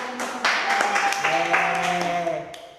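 Classroom applause from vocational high school students, a burst of scattered clapping close by with a tonal voice or chime running underneath, fading out after about two and a half seconds.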